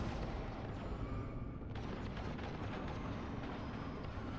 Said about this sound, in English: What is all that shooting?